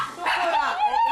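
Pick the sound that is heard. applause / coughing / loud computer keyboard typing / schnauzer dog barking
schnauzer dog barking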